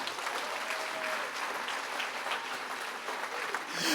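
Audience applause fills a church gathering, a dense steady clapping from a large crowd lasting the full four seconds at moderate distance.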